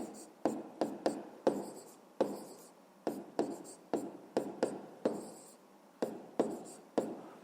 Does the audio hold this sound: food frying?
no